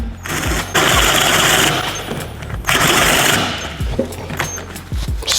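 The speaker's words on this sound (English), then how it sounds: "you can see it just doesn't have the torque to get through that bit of timber, and it keeps jamming up" A Ryobi cordless drill strains to drive a 32mm bit through timber, its motor whining loudly in long bursts that cut out and restart as the bit jams, with brief knocks between efforts.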